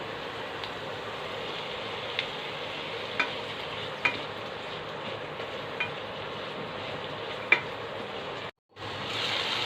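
Chopped tomatoes fry in a pan of capsicum masala while being stirred, a steady close sizzle with occasional sharp clicks of the spoon against the pan and a brief dropout near the end.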